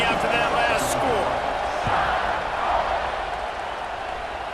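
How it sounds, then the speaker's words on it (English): Stadium crowd in a College Football 26 game buzzing with a steady roar after a score, sustained throughout with scattered cheers. "this crowd is buzzing after that last score"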